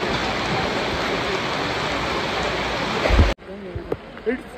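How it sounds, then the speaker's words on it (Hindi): Heavy rain pours down at Kedarnath on the trekking route from Gaurikund to the temple: a loud, steady hiss of downpour for about three seconds, then it cuts off abruptly to quieter background sound. "it's raining right now in Kedarnath, बहुत ही ज़्यादा बारिश है"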